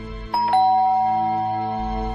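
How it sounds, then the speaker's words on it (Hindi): A two-tone ding-dong of a hotel room doorbell, a clear electronic chime whose second note lingers and slowly fades, heard alone over a faint low hum. "उनके रूम की घंटी बजी।"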